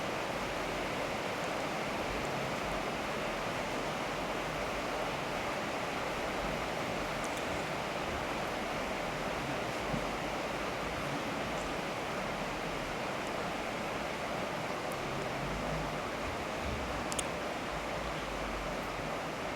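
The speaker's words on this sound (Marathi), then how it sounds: "साबणाच्या पाण्यासारखं फेसाळं पाणी येतं आहे." Foamy water from a small village waterfall rushes as a constant, full-bodied roar nearby, steady for the whole stretch and with no voices.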